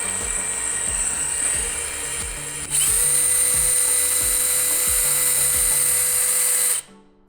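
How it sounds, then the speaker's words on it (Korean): Electric drill driving an AWAH Z3 descender winch, a loud steady high-pitched whine throughout with a rhythmic low knocking as the rope mechanism turns, rising briefly in pitch before cutting off abruptly at the end. "이 상태에서 드릴을 연결하고 돌려주면 끝!"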